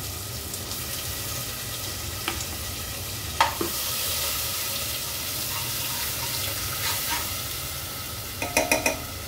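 Ground spice paste for a black peas curry sizzling in a pan, a steady quiet frying hiss with a few clinks and scraping stirs, including a cluster of taps near the end.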